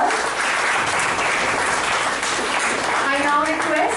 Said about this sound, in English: I request the audience to welcome Eva with a round of applause.